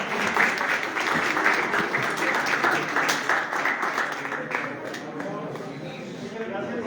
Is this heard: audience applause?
yes